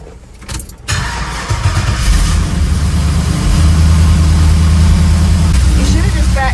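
A dually pickup truck engine cranks and catches after a brief rattle, then settles into a loud, steady low idle close by.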